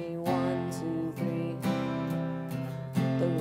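An acoustic guitar strummed with all down strums in a waltz-like triple rhythm for a piano ballad chord progression, strong chord attacks every beat or so ringing out close and clear, no voice.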